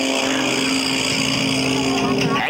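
Aerobatic propeller airplane engine at the Quad City Airshow 2006 roaring steadily and loudly as the aircraft hangs on its propeller, a sustained harmonic drone with an announcer talking over it.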